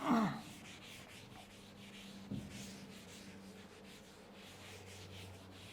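A board is rubbed clean during a classroom lecture, a soft continuous scrubbing and swishing after a brief sharp knock at the start, quiet and near, with no talk over it.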